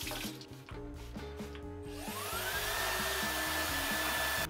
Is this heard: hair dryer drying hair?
yes